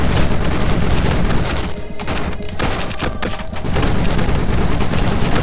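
Gunfire in the video game Superfighters, a loud, dense, rapid fusillade of shots that drops briefly in the middle before the barrage resumes, with no talking heard.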